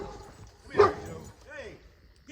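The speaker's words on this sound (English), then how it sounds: "Hello, got a dog." A dog gives a short bark or yip partway through, then a whimpering call follows, heard on a hiking trail amid quiet outdoor background.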